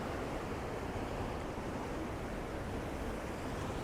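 Ocean waves crash and wash over rocks at sunrise in a continuous roar of broadband surf, steady and fairly loud, with no voices.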